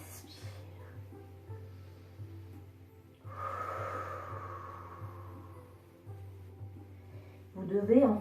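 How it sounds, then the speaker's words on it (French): Slow, audible breathing during a Pilates exercise on a mat: soft exhales and inhales rise and fall, ending in a louder, sharper breath. "Vous devez entendre le son de votre respiration."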